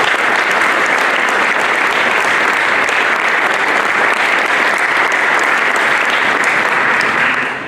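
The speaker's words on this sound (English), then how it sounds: "Let's give Melaine Meyer a round of applause" An audience at a community senior sports banquet gives a pianist a loud, sustained round of applause, dense and steady from start to finish before easing off at the very end.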